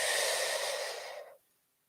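A slow, deep belly breath drawn in through the nose during a guided meditation, a single close breathy inhale lasting over a second before cutting off into quiet.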